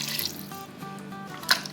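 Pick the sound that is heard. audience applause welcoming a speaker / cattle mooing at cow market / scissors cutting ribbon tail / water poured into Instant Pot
water poured into Instant Pot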